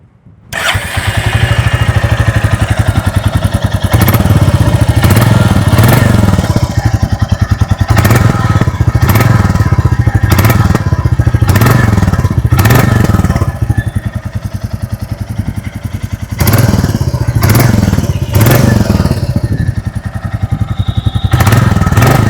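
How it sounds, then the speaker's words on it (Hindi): 2025 Royal Enfield Classic 350 Stealth Black motorcycle starting up and revving, a thumping single-cylinder exhaust at idle with repeated throttle blips, close and loud. "आइए अभी सुन लेते हैं इस बाइक की एग्जॉस्ट नोट"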